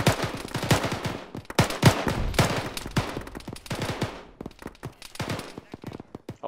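Dense gunfire from a jungle runway battle in the military game Arma: rapid overlapping rifle shots and bursts, some close and sharp, others further off, rattling almost continuously with brief gaps.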